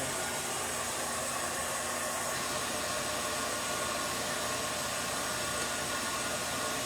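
A hair dryer drying decoupage paper on a snow globe before painting gives a steady, unbroken whooshing roar, close and even throughout, with no talking.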